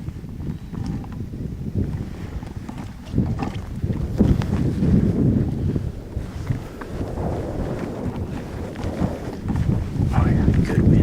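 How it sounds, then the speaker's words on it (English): Wind gusting across a hillside during an axis deer hunt in Hawaii, a steady low rushing roar with microphone buffeting that swells louder in the second half, with faint movement sounds underneath. "Oh yeah, good wind."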